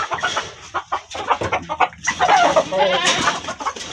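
Hens cluck and squawk close by in a corner where they are laying eggs, a busy run of short, uneven calls.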